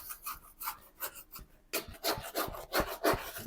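Sourdough dough being scraped down from the sides of a spiral mixer bowl in a micro bakery gives repeated short rubbing scrapes in an uneven rhythm, close and moderately loud, with no voices.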